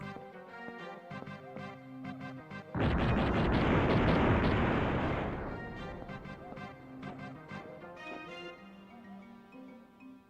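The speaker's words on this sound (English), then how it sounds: "the explosion didn't break it" A bomb explodes in the Overblood 2 video game as a loud, broad roaring blast that lasts about three seconds, then fades gradually over a backing of steady game music.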